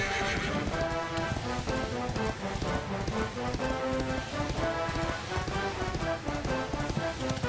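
A horse in the video game Dragon Quest XI trots with steady rhythmic hoofbeats that continue throughout, alongside a constant layer of game music.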